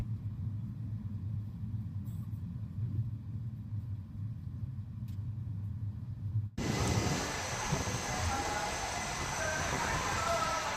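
A train in Indian Train Simulator, the 17646 Repalle to Secunderabad Express, rumbles along with a low, steady drone, then abruptly shifts to a brighter, louder rushing roar as it enters Piduguralla station.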